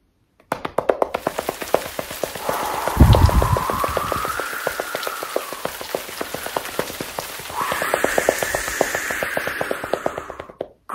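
Children rapidly pat their legs to mimic falling rain, a continuous pitter-patter with a breathy whooshing like wind swelling over it twice.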